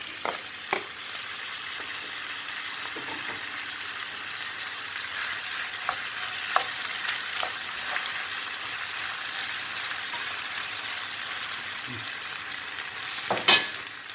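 Tomatoes frying in a pan for chicken börek filling, with a steady sizzle and occasional soft scrapes as they are stirred, close and fairly quiet, with no talking.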